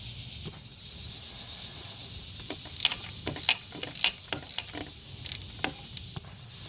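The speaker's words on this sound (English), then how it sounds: "I'm going to go ahead and get the 7mm band right here for this turbo hose." Ratchet clicks and small metallic ticks as a 7mm hose band clamp is loosened on the turbo hose of a Chevy Cruze 1.4L, close up, in irregular bursts over a faint steady background hum.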